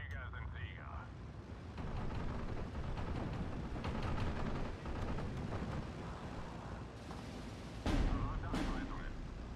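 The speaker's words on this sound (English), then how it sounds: "Just constantly bringing in mortars." Repeated mortar impacts and distant battlefield booms rumble through a Steel Division 2 WWII battle, with dense continuous war noise and a few sharper blasts near the end.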